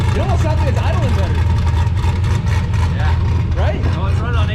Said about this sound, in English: It almost sounds like it's idling better